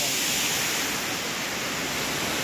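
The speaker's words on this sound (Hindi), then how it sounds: "ये झरना" Steady, loud roar of a mountain waterfall beside a lake on the Madmaheshwar temple trek in Uttarakhand, a continuous broadband rush with no pauses and no voices.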